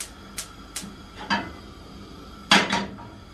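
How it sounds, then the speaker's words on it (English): A cooking pan is set onto a stovetop in a home kitchen while a steak sandwich is being made. Several sharp, close metallic clanks and clatters come in short bursts over a quiet room hum. "I'm going to get this pan on the heat"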